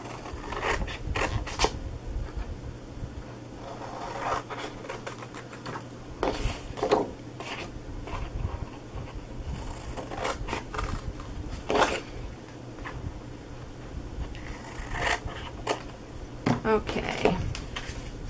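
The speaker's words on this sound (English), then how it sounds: "you are going to cut these two corner pieces off right here" Scissors cutting the corner pieces off a large cardboard bakery box, with repeated close snips and rasping cardboard scrapes and rustles in an irregular rhythm under a quiet room hum.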